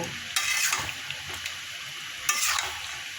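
Potatoes stirred and sautéed in a pan: a steady close sizzle with a few sharp scraping strokes of the spoon against the metal, no voices.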